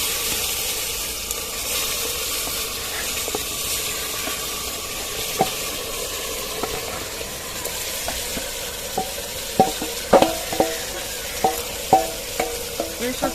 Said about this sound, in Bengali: এবারে আমি চিকেনটা হাঁড়ির মধ্যে দিয়ে দিচ্ছি। আমার এখানে ভাজা হয়ে গেছে ফোড়নগুলো।